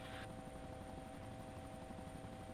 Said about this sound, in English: every once in a while I'll see a helicopter with their rotors spinning really slow for no reason.